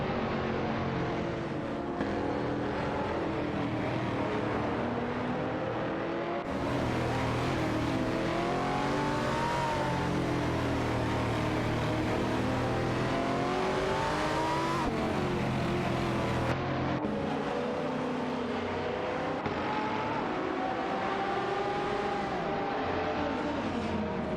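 Ferrari F360 GTC and Aston Martin DB RS9 race cars in a racing video game, engines roaring continuously with rising and falling revs as they duel for position, loud and sustained with no talk.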